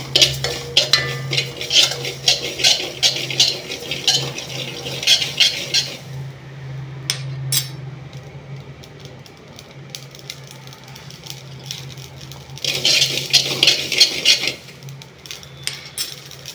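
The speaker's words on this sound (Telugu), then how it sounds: "ఇందులోనే ఆవాలు వేయించేసుకుందాము." Two spoons of mustard seeds frying in a pan as a metal spoon stirs them: a steady sizzle with frequent close, sharp clinks and scrapes of metal on the pan, thinning out briefly midway before getting busier again near the end.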